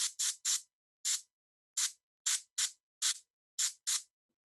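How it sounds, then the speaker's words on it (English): An airbrush used for painting miniatures fires a series of short, sharp hard bursts of spray to clear it out, about ten separate hissing puffs in irregular rhythm, close and loud against silence. "I'll do a hard spray to make sure my airbrush is clean."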